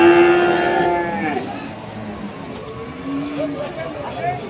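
Cattle at the Wirosari cattle market in Grobogan lowing loudly nearby, a long moo at the start followed by further drawn-out calls, with someone talking over the herd.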